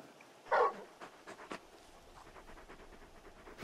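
Torgal, the big dog in Final Fantasy XVI, pants quietly in short, soft breaths, with one louder huff near the start.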